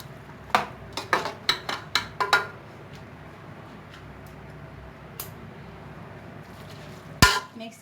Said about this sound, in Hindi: इसे अच्छी तरह से मुझे चम्मच से मिक्स कर लेना है